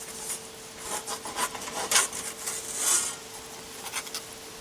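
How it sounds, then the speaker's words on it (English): A metal spatula scrapes and rubs as a pizza is wiggled off onto the grate of a Weber kettle barbecue, a series of close, soft rasping strokes with a couple of sharper metallic scrapes, irregular and unhurried. "Take a spatula to help wiggle it on."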